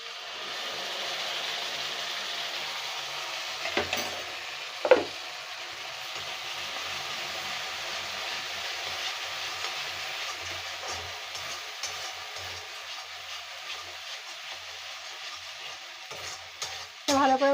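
Masala for a Kolkata-style rui fish gravy is stir-fried in a pan, giving a soft continuous sizzle with occasional scraping stir strokes and clinks, fairly quiet and steady.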